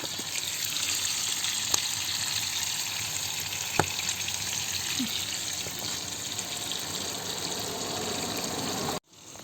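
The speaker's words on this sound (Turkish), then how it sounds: "ocak başında kışlık patlıcan kızartması." Aubergines for winter storage frying in a pan on a stove in a Muğla village, a steady broad sizzle and hiss throughout with a couple of small sharp pops, fairly close, with no voices.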